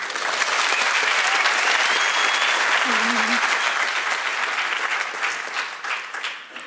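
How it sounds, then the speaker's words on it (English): An audience gives a loud, full round of applause for singers, sustained for several seconds with a brief tonal sound in the middle, then thinning out toward the end. "they deserve a big round of applause"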